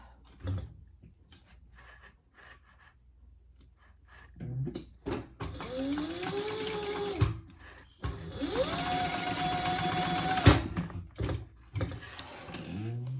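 A sewing machine stitches the seams of a crossbody wallet, running in two rising whirring bursts, the second longer and louder, after some quiet handling noises nearby.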